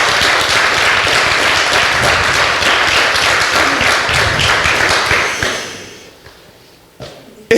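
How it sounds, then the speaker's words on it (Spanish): A Pentecostal church congregation bursts into loud, close, full applause that holds steady for about five seconds, then thins and fades. A few stray taps and claps follow. "Dale un aplauso al Señor, aleluya"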